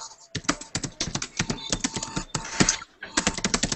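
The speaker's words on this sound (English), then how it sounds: "I can hear someone typing." Rapid keyboard typing heard over a remote call, a dense run of sharp, irregular key clicks with a brief pause near the end before the tapping resumes.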